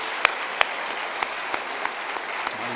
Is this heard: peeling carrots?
no